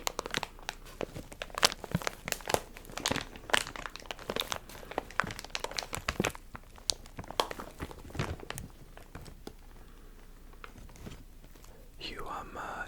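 Soft crinkling and crunching of a crumpled material, dense and close through the first half, then sparser and quieter, mixed with faint whispering.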